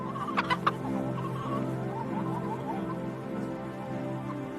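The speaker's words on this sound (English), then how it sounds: "There are lots of birds on farms too, such as turkeys, ducks and chickens." Chickens cluck and murmur steadily in a farmyard, with a few sharp higher calls near the start over a continuous low backdrop of poultry noise.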